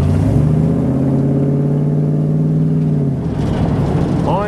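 A car engine with a 2-barrel carburetor idles loud and close, a steady rumbling drone with a slight rev change near the end.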